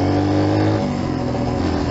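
A Yamaha motorcycle engine hums steadily under load while riding, a loud close drone that shifts pitch partway through.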